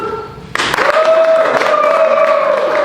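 An audience claps to vote for a contestant at a women-in-business happy hour at a distillery in South Salt Lake, the dense applause starting abruptly and holding steady and loud, with a sustained tone running beneath.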